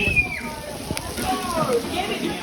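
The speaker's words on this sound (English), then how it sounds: "It is pouring down." Heavy rain pours down at Magic Kingdom, a steady hiss and splatter with sloshing under loose, indistinct voices.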